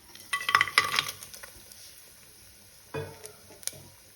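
Whole spices such as cloves, cardamom and bay leaf, plus cashews, dropped into a hot pan for mushroom biryani, giving a brief clatter and sizzle with a few scraping stirs, then a quieter second stir and clink.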